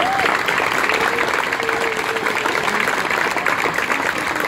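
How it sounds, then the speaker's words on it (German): A crowd at an outdoor rally in Hanau, held over nine racist murders, breaks into sustained, even applause lasting several seconds, with a few voices mixed into the clapping. "Großen Applaus dafür."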